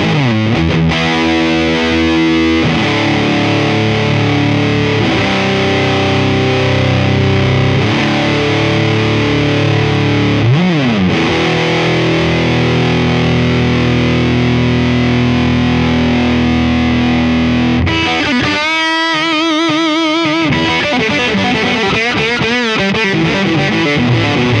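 Loud, close duck call blown in rhythmic quacking sequences for timber hunting: a descending series of quacks, a rapid feeding chatter, then another series of spaced quacks.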